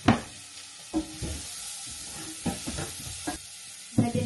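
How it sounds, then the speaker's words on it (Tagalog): Onion stirred into beef in a hot frying pan: a spatula scrapes and clacks in several separate strokes over a soft, constant sizzle, close up and without speech. "Mix na natin itong onion. Ito maraming onion para mawala ang lansa ng beef."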